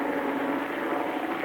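Steady droning engine roar of Japanese bomber aircraft over Manila, captured in an old wartime radio broadcast, a continuous broadband rumble with no talk.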